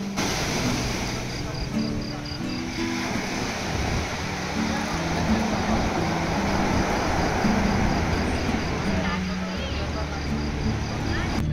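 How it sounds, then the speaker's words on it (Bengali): Strong sea waves roll in on the beach at Digha at night, a constant loud wash of surf with low rumbling engine hum and a faint high insect whine mixed in. "আর এখানে দেখতে পাচ্ছ রাতে কিন্তু খুব জোরে জোরে ঢেউ দিচ্ছে"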